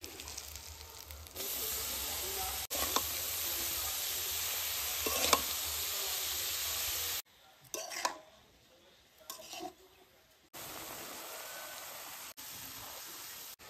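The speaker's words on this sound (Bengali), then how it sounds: "বাঁধাকপি দিয়ে 5 মিনিট মতো ভেজে নিয়েছি" Shredded cabbage fries in a pan with dried chilli paste, salt and turmeric for a spiced chicken dish. A steady sizzle gives way to quieter stirring, with scraping and utensil clinks, before the frying hiss returns.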